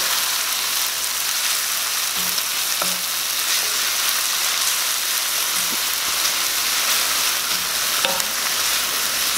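Garlic and pak choy fry in a pan with a steady, loud sizzle, broken by a few soft knocks and scrapes as the greens are stirred.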